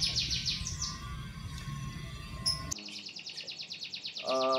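Canaries sing in rapid, high trilling phrases, first layered over a low background hum, then cleaner and more distinct toward the end, with repeated chirped notes.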